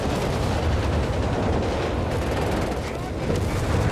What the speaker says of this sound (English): More needle barrage